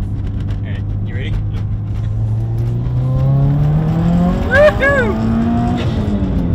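Subaru WRX with a new turbo inlet pulling hard in second gear from about 25 mph, engine note rising steadily as it revs, with a turbo whoosh near the end and people talking and cheering over it inside the car.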